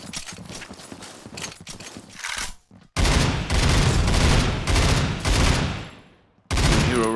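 Rifle fire in the tactical shooter C-OPS comes in fast, dense bursts, loud and close, pausing briefly before another heavy volley, with game sounds between.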